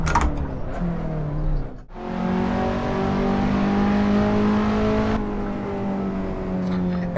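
A race car engine in the Assetto Corsa driving game screams at high revs, dips briefly during a gear change, then holds a loud, steady, full-throttle howl on the straight.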